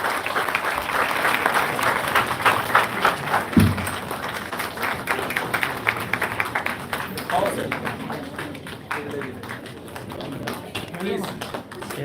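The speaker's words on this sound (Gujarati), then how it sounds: "તાળીઓ રોકવી ના જોઈએ." A crowd claps continuously, a dense patter of applause that gradually thins toward the end, with voices talking over it.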